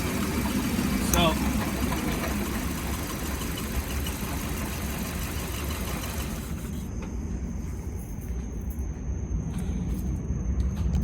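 A car engine idles roughly with a misfire after a spark plug swap, a continuous uneven mid-pitched rumble that stays near and steady, cutting back slightly in the second half.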